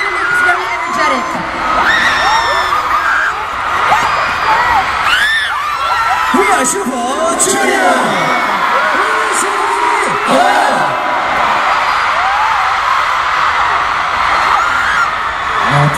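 A large concert crowd in the Philippines cheering, with sustained loud screams, whoops and yells filling the whole stretch.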